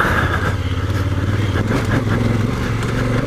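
A Honda Africa Twin motorcycle rides offroad in second gear over rocky trail, its engine a steady, close, loud rumble with slight surges.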